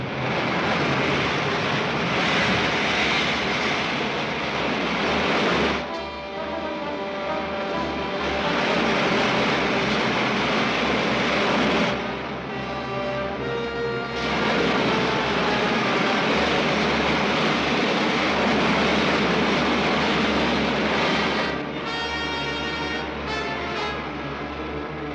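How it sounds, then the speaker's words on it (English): Spaceship main jets firing in a 1953 science-fiction serial, a loud steady rushing roar with shifting hiss, sustained throughout with brief dips in intensity, and no talk. "Firing main jets."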